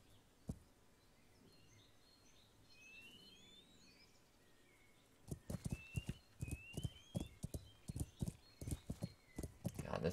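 Horse hooves clip-clop in the medieval game Kingdom Come: Deliverance. A single early hoof strike is followed by a quiet stretch, then a steady run of close, rhythmic hoofbeats under faint chirping birdsong.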